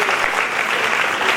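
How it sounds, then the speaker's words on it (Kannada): Loud, dense applause from a crowd at a temple fair, a continuous close burst of many hands clapping together throughout. "ಅವ್ರಿಗೆ ಜೋರಾದ ಚಪ್ಪಾಳೆ ತಡ್ಬೇಕು"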